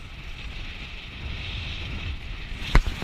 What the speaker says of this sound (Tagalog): Grabe ang hangin subong.